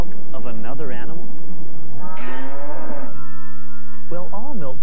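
Cattle lowing in several long, drawn-out moos with rising and falling pitch, loud and close, mixed with other voiced animal-like calls.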